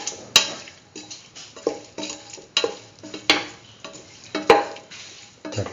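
Spices being stirred into pumpkin beef rice in a pot, a string of close scraping strokes and clinks of utensil against the pot, irregular and fairly loud, with a faint sizzle beneath.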